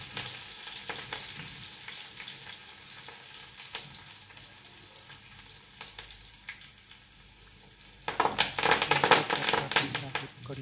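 Finely chopped green chillies crackle in an upma tempering, a soft, steady sizzle with light tapping under a speaking voice that swells into a loud, bright spattering burst near the end.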